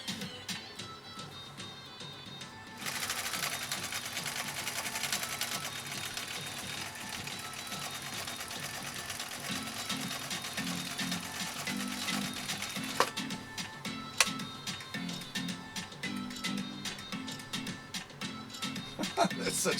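A 1962 Husqvarna Viking Type 21E sewing machine stitching zigzag, a steady, fast mechanical whirring and ticking that runs continuously with a rhythmic pulse, fairly quiet and close, with some faint voice in the background.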